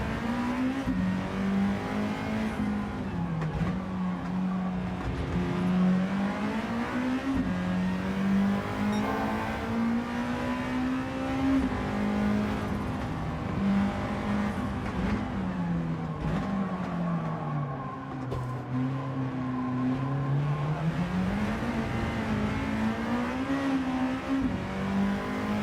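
Front-wheel-drive car racing in Gran Turismo 7, its engine droning loud and steady for the whole stretch, pitch rising and dipping with gear changes and throttle, with no talk over it.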